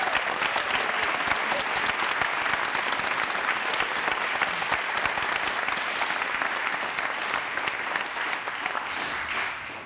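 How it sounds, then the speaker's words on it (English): Sustained audience applause at a school winter choir concert, a dense, full roar of many hands clapping that holds steady for several seconds and tapers slightly at the end. "So a big round of applause."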